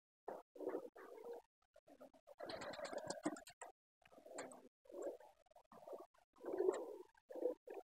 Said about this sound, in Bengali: দরজাটা খুলে দিলাম, সব কবুতর বেরিয়েছে